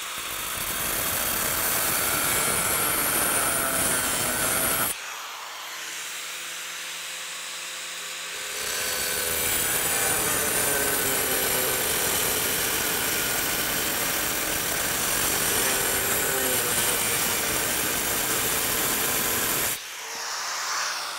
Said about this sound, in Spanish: Cortaré esta piedra realmente gruesa con la misma amoladora.